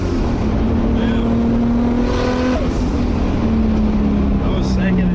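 A Toyota Supra with an audible wastegate and fan pulls hard through second and third gear, a loud, steady engine drone with a brief break at the shift, while people talk over it.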